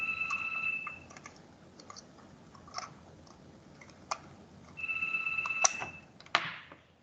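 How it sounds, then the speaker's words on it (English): A mobile phone rings in a lecture setting, two bursts of steady electronic tone about four seconds apart, with scattered clicks and handling noises between them and no talk over it. "I can't put off this phone."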